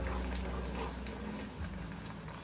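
Homemade oil bubbling and foaming as it cooks in a pan, a soft, steady, close fizz and crackle of small bursting bubbles with no talk.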